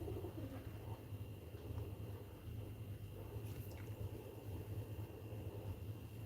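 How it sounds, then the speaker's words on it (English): Two pigeons coo softly nearby, faint and low against a steady background hum and distant traffic-like rumble. "There are two pigeons now."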